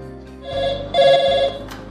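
An electronic telephone ringing with a short, bright two-part trill, close and clear, heard alone.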